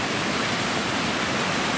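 Creek water running across a hiking trail on the way to Marion Peak makes a loud, close, steady rushing hiss with no breaks or voices.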